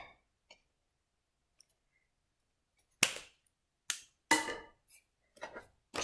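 Cutters snip while an electric pencil sharpener is being built, giving a few faint ticks early on, then a series of sharp, close clicks and snaps spaced irregularly through the second half.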